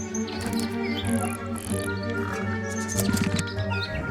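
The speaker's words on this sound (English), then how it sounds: "An especially fancy cage. And it's home to 3 especially fancy birds." Three ornate caged birds in the Tangle Tower game chirp and tweet in short bright calls over a steady layer of game music, moderately loud and close.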